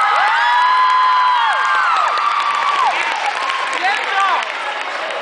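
Middle school students at an assembly clap, cheer and whoop for a jersey-winning classmate, a loud, dense crowd roar with high children's shouts rising and falling across several seconds and easing slightly toward the end.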